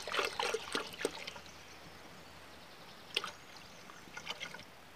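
Concentrated comfrey liquid manure trickles and splashes as it is poured into water in a vegetable garden, a short close pour at the start followed by a few faint drips and splashes.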